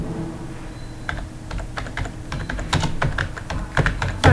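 Computer keyboard typing in short irregular bursts of crisp key clicks while entering Python code to import the Pandas library, close and fairly loud, growing busier toward the end, with no voices.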